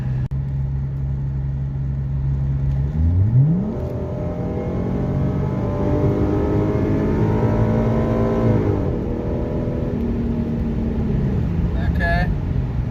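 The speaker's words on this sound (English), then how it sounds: "we're going to do a few more full throttle pulls here" A 2014 Ford Mustang with the 3.7 V6 pulls at full throttle, its engine note rising, dropping at a gear change, then climbing again in a loud, continuous roar heard from inside the car.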